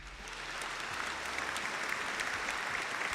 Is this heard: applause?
yes